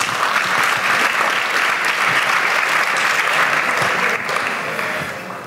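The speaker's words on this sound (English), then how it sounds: "So a round of applause for Michael's couch sessions." Conference attendees give sustained applause after a couch session on inclusive education, the clapping loud and steady before tapering off near the end, with no one speaking.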